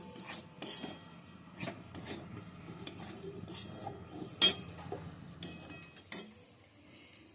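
Besan (gram flour) roasting in a pan while a spatula scrapes and stirs it, with metallic clinks and rasping scrapes in a steady kitchen rhythm and a sharper knock partway through; no talking.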